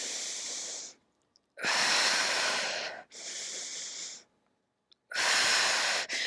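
Deep, breathy inhales and exhales during a Pilates side stretch holding a ring overhead, four long airy breaths separated by short silences, close to the microphone.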